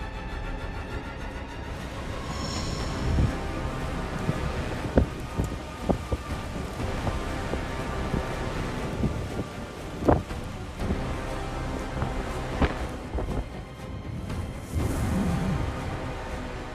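Howling wind and heavy rain from Typhoon Hinnamnor, a record-strength typhoon moving toward the Korean Peninsula, fill a steady, dense roar, with sharp gusts and impacts standing out around the middle.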